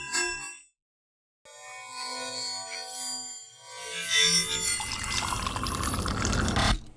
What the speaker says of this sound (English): More drinks pouring.